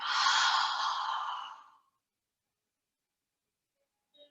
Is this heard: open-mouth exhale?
yes